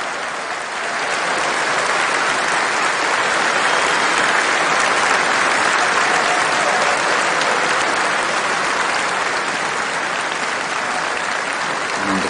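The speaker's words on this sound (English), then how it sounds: "And the crowd that had gathered, which again in its own way reflects the history of why this ceremony takes place, expressing their joy and delight" A large outdoor crowd in the City of London applauds and cheers the proclamation of King Charles III, giving sustained loud clapping that swells and stays dense for the whole stretch.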